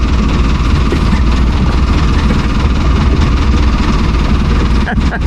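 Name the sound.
engine running at idle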